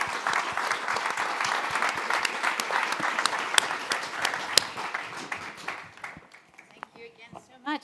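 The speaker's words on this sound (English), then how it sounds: "And I think we will say thank you very much in the round of applause in the normal way." A conference audience gives a lively round of applause with crisp individual claps, and it fades toward the end as a voice begins.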